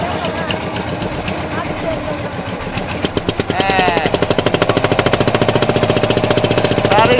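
A boat engine pulling away from Cox's Bazar toward Moheshkhali, a loud close diesel chugging that starts as a rough rumble and settles into fast, regular thumping pulses, with a voice speaking over it early on.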